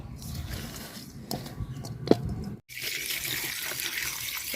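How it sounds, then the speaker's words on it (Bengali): Small koi fish being washed under running water produce a steady splash and trickle from the tap, broken by a short pause before the flow returns stronger. "মাছগুলো আমি সুন্দর করে ধুইয়া নিছি"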